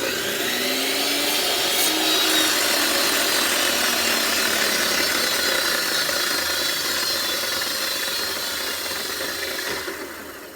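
A handsaw cutting through wood at a knot, giving a continuous close rasping scrape for about ten seconds before it eases off at the end.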